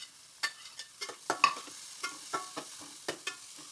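Carrot and onion stirred in hot coconut oil, a soft background sizzle broken by a dozen sharp spatula scrapes and taps in an uneven rhythm, close by, no voices.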